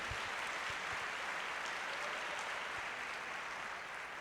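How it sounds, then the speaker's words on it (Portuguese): A church congregation applauds during a family worship service, with dense, even clapping from a large room heard at a slight distance that stays steady and unbroken throughout. "Dá um aplauso aí a Jesus então."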